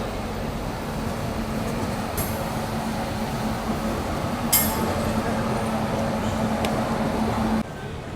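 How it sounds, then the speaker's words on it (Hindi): Inside an AC 2-tier coach of the Sealdah Bikaner Duronto Express after leaving New Delhi, a steady loud rumble of the moving train with a low hum, faint clinks and a brief sharp rattle. "मात्र 5 मिनट का हॉल्ट लेकर अपनी ट्रेन निकल चुके हैं न्यू दिल्ली रेलवे स्टेशन से।"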